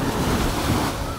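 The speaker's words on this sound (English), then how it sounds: "now I come down here and these big waves start coming" Big ocean waves roll in at Naihan Beach in Phuket, Thailand, a close, broad crashing wash of surf with wind buffeting the microphone.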